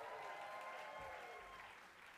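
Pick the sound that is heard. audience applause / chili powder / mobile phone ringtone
audience applause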